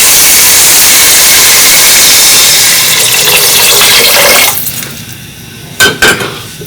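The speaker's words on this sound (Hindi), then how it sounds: "और इसमें डालेंगे 1 लीटर पानी।" One litre of water poured into a pot of spices for matar pulao, a loud steady rushing pour that fades out after a few seconds, followed by a couple of brief clanks of the pot.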